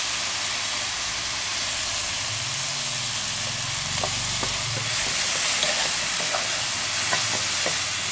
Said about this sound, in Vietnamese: Khi hành mà dậy mùi thơm rồi này, nhưng mà chưa cháy này, đổ cà chua vào